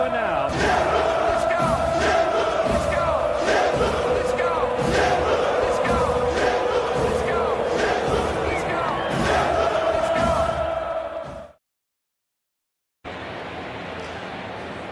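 A baseball stadium crowd at a Braves–Padres game chants and cheers loudly in rhythmic bursts with stomping beats, filling most of the stretch, then drops out abruptly before the roar returns.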